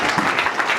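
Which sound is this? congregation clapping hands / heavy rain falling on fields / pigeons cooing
congregation clapping hands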